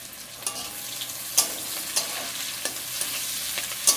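Sliced onions and green chillies frying in a pan for a home-style Indian shahjan fish curry, a steady close sizzle broken by sharp scrapes and clinks of a stirring spoon every second or so.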